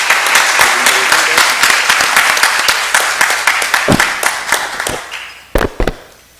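Audience applause for the panel chair at an international arbitration congress, sharp dense clapping that thins into scattered individual claps and a few loud final ones.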